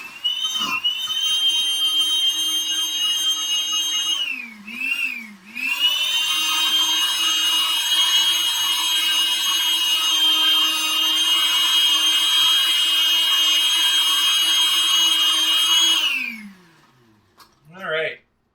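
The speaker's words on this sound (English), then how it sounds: "And now blending it on as high a setting as I've got. So this is going to be loud for a second." A kitchen blender on its highest setting crushes ice for a peach daiquiri, a loud whining motor roar that dips briefly, then runs steadily for about ten seconds before winding down.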